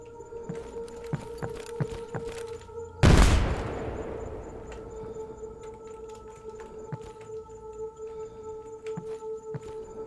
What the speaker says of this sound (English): I wonder what happens if I toss a nade out there